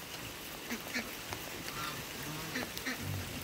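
Muscovy ducks in a rainy garden give several soft, scattered calls over a steady hiss of rainfall, faint and somewhat distant.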